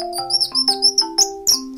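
A Seria bird call whistle is sounded in a quick series of about seven bright, chirpy tweets, loud and close, with no speech.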